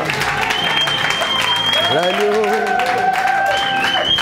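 A church congregation applauds in a loud, continuous wash of clapping. A voice rises over it with a sustained call.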